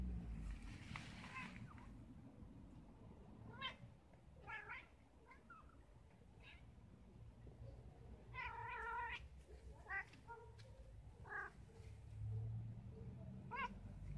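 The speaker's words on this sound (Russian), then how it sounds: "Мы этого кота видим впервые." An unfamiliar cat meows repeatedly, several short plaintive cries spread through the stretch, close by over a low background rumble, with soft voices murmuring in between.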